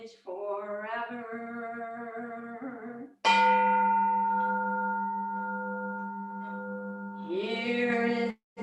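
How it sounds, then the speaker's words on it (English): A Zen Buddhist temple bell struck during a Sunday service, ringing out with a sharp strike and then a long, steady, humming resonance that slowly fades, between two quieter sustained tones. "Here is the after sound of the bell."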